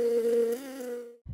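A real bumblebee caught in a backyard buzzes loudly and up close in one steady, unbroken drone lasting just over a second before it stops abruptly.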